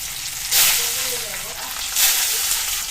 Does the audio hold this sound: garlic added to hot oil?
yes